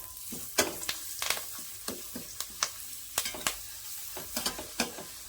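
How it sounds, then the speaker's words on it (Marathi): Spice masala being sautéed on a low flame for Kolhapuri garlic bhadang, quiet close frying with a soft sizzle punctuated by repeated sharp scrapes and taps of a spoon in the pan. "आता हा मसाला आहे ना चांगला परतून घेऊया"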